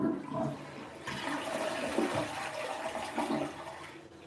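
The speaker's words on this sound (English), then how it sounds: "here's the big flush" A hotel toilet flushes in one continuous rushing surge of water that holds steady for about four seconds, close and loud, with no voices.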